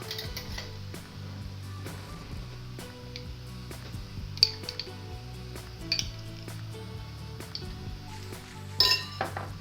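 Tomato paste being stirred in a frying pan with carrot and beetroot for red borscht: repeated light clinks and scrapes of a utensil against the pan over a low steady kitchen hum, with a few sharper metallic taps.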